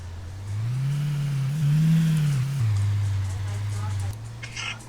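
A car drives past close by, its engine hum rising and falling steadily for several seconds before fading slightly, with faint hiss in the background.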